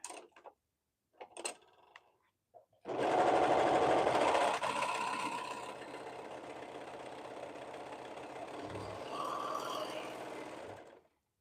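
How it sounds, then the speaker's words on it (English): Sewing machine stitching the cuffs of a hoodie together runs in one continuous loud whirring burst of several seconds after a few faint clicks and handling sounds, then stops. "Stitch my cuffs together."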